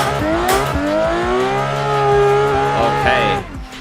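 A VDC F22 race car in Assetto Corsa revs hard through the gears on a lap, engine pitch climbing and dropping with shifts, tires squealing briefly near the end.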